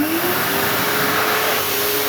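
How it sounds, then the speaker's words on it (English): An automatic sensor-activated hand dryer runs with a loud, steady roaring blow of air and a constant motor whine, close and unbroken throughout. "the hand dryer will turn on without us even having to press a button"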